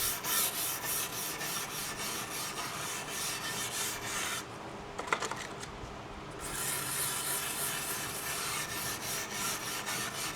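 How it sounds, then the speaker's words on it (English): A wire brush scrubs back and forth across the grain of a cedar chest in close, steady rasping strokes, with a short pause in the middle and no talking. "a wire brush and scrub to see if I can get it out of the grain a little bit"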